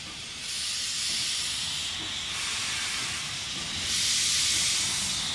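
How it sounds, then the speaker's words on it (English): Steam locomotive on an Indian railway hissing steam in a steady, loud, broad rush that swells in bursts, with a low rumble beneath and no voices. "The steam locomotive looks fascinating, it sounds fascinating. It breathes out a lot of fascinating things also."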